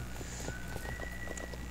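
A horse's hooves clip-clop in quick, even steps in the Roblox game The Wild West, faint and regular against a low background drone.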